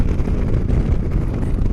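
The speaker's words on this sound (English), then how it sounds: "It is so windy, it's actually affecting how the Spyder handles." Strong wind buffets an open three-wheeled Spyder motorcycle on the road, a loud, continuous low rumbling roar of gusts battering the microphone with no voices over it.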